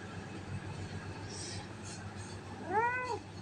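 A cat gives one clear, drawn-out meow near the end, close by, over a quiet murmuring background.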